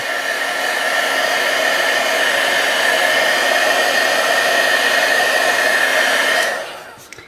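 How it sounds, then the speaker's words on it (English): A heat tool blows hot air over alcohol ink on paper in a loud, steady whirring roar up close, then switches off and winds down at the end. "I'm just going to use the heat tool."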